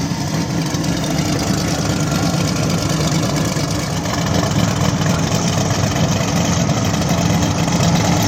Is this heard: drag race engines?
yes